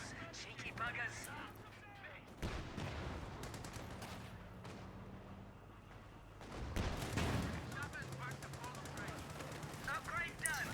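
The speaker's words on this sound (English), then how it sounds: "Cherry infantry firing at us." Infantry gunfire in a multiplayer strategy battle game: bursts of machine-gun fire and scattered rifle shots, moderately loud, mixed with the game's ambient noise.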